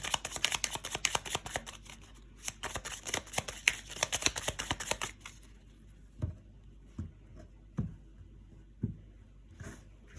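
A 32-card deck being shuffled up close: a dense riffle of rapid card flicks for several seconds, then a handful of separate soft card slaps and taps spaced apart.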